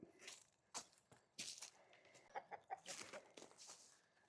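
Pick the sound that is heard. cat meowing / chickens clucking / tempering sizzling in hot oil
chickens clucking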